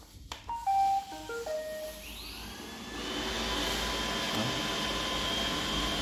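A used robot vacuum cleaner on a test run plays a short series of descending electronic beeps, then its motor spins up into a steady, moderately loud whirring hum.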